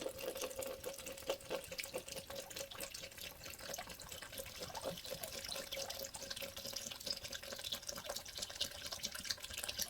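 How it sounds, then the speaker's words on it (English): Liquor poured as a small shot into a glass, a steady, faint trickling splash running continuously without pause, with no talk over it. "pour me out a small shot"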